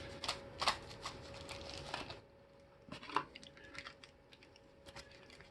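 A pack of Swamp Fox red dot mounting screws rattles and clicks in small clustered bursts, a few sharp clinks standing out, then quieter scattered ticks near the end, close and fairly faint.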